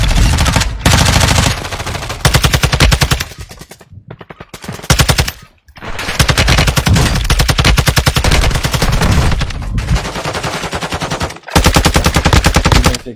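Rapid automatic gunfire from a video game rattles in long, loud, sustained bursts with brief gaps between them.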